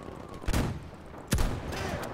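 Video game gunfire crackles in a battle, with two sharp, loud shots standing out from a steady rumble of distant shooting and no clear talk over it.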